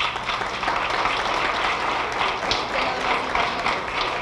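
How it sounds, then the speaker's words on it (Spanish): An audience at a forum held in the Mexican Senate applauds with dense, continuous clapping that stays fairly loud and even throughout, with no voices heard over it. "Un aplauso, por favor."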